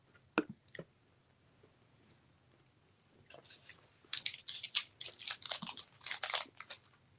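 A person chewing food, with a few faint isolated crunches at first, then a cluster of close, moist crunching and biting sounds in irregular bursts over a quiet hum.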